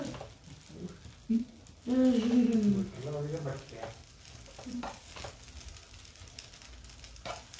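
A butter dosa fries on a hot pan with a soft, steady sizzle and some light stirring or scraping, while a voice talks briefly over it near the middle.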